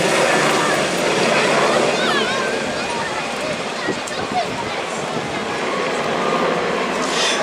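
A Sikorsky UH-60 Black Hawk helicopter flies at the Małopolski Piknik Lotniczy air show, giving a steady, loud rotor and turbine roar throughout while a commentator speaks over it.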